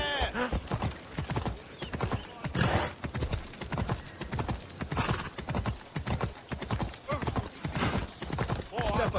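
A galloping horse in Assassin's Creed Odyssey, its hooves pounding in a fast, continuous rhythm, loud and close, with a voice speaking over the ride.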